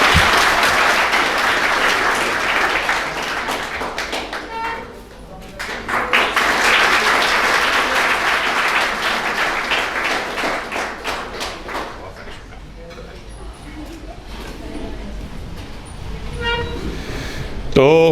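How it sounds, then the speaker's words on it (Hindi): A classroom audience claps loudly to welcome Ranjeet, a civil judge candidate from Gohad in Bhind, in sustained applause that dips briefly near five seconds and then carries on in waves, fading toward the end. "तो तालियां बजाकर रंजीत का स्वागत करो।"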